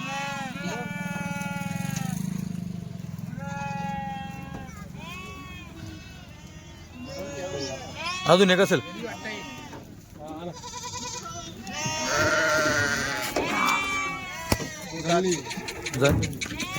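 Kathiawari goats, including young kids, bleat repeatedly up close in a vehicle, a series of wavering cries mixed with people talking throughout.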